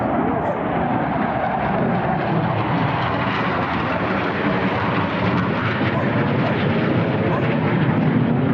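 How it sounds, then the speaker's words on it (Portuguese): A fighter jet flies over Lake Garda, its steady, loud, broadband roar filling the whole stretch without letting up. "E tá aí o caça de novo."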